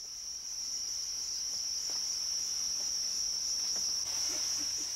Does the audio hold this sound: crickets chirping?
yes